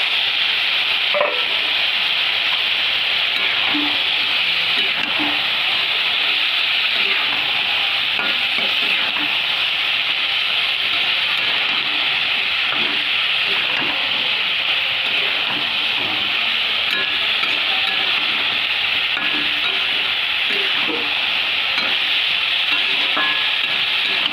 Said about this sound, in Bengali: সজনে ডাঁটা আর আলুটা আমি সুন্দর করে কষিয়ে নেব